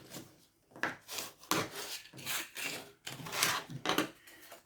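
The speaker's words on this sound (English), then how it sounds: "So we're going to fold them and burnish them." Scored card pieces are folded and burnished by hand, a series of close, quiet rubbing and scraping strokes in uneven bursts, with no talk.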